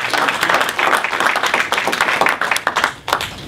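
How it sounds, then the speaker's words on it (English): A crowd claps for volunteers' work on a sustainability effort in Rye, brisk overlapping applause close and loud for a few seconds, tapering slightly near the end. "round of applause for the effort that these folks have put into this"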